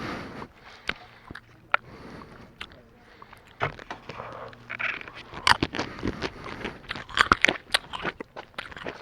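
Bites into an unripe jujube fruit land as crisp crunches, followed by irregular close chewing clicks and crunches against a quiet outdoor background.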